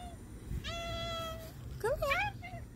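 A cat meows twice in close succession, the first a long steady call and the second a rising, wavering cry, with faint background noise between them.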